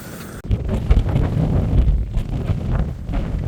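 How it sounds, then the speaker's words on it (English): Strong wind gusts batter the microphone on a mountain trail, roaring and buffeting in uneven surges after a brief quiet start, loud and close throughout. "It's so windy."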